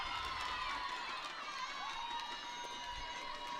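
Loud, steady crowd roar fills a high school girls' JV basketball gym (Triton vs Olma) after a made three-pointer, with thundersticks adding to the sustained din and a few sharp shouts rising above it.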